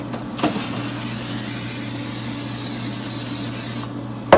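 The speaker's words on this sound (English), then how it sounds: "I'm going to go ahead and throw some cooking spray on it." A steady, continuous hiss of butter-flavored cooking spray from an aerosol can, lasting several seconds close to the mic before stopping abruptly.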